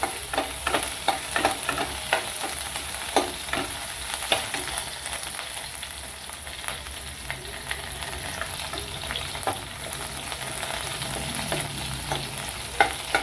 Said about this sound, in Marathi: लसूण हिरवी मिरची आणि आलं किसून घेतलं ते आलं टाकू आपण असं परतून घेऊ